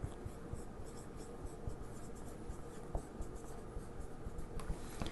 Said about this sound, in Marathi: मी इथं डेफिनेशन लिहितो